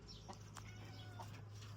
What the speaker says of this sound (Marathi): आतमध्ये कोंबड्या पण येत्या बघा